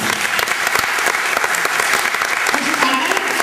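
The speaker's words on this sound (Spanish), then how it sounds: "Un aplauso para José Bons." Audience applause at a gala presentation for an Asturian film festival, loud sustained clapping from a seated crowd with a few sharper individual claps standing out.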